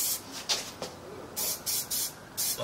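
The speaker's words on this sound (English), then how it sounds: "What I do is just spray each one." Short bursts of aerosol lacquer spray hiss in a quick irregular series over model wheel components, several quick puffs of spraying at close range.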